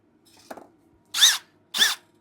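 Drill with a Forstner bit: two short, separate whirring bursts of a power drill, loud and close, preceded by faint handling clicks.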